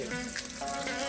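Carne asada ingredients sauté in a hot pan, giving a steady, close sizzle and frying crackle that fills the short moment without any talk.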